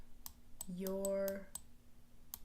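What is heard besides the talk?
clicking noise from a stylus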